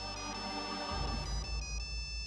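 A mobile phone ringtone in a horror film: a bright, repeating electronic melody that rings on and on over a low hum. It sounds close and clear, with no one speaking.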